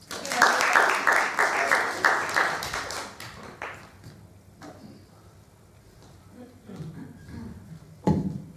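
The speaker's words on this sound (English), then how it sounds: "Can we have a round of applause?" A short burst of audience clapping rises in the first few seconds, then fades into a quiet room with scattered knocks and shuffling, and a sharp bump near the end.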